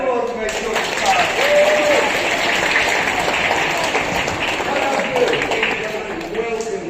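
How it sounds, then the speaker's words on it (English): Audience applause after a sports fencing demonstration at the Royal Armouries, a dense, sustained burst of clapping from a crowd that stays strong throughout, with faint voices woven underneath. "A round of applause to make sure it's fine."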